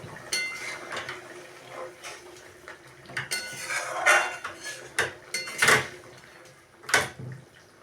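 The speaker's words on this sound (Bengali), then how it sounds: "একটু নেড়ে দেখাই।" Potato curry (aloo dum) with garam masala being stirred in a pan: a run of scraping and clinking utensil-on-metal hits, uneven in rhythm, close and moderately loud with no talking.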